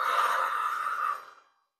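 A long, breathy exhale blown out close to the microphone during a low-impact cardio workout, steady for about a second before tapering off into silence.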